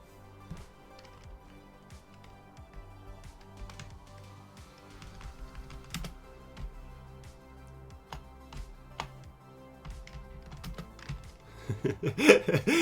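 Typing on a computer keyboard while making an end-turn button for a game, with scattered clicks and key taps at a steady pace, joined by brief laughter and louder knocks near the end.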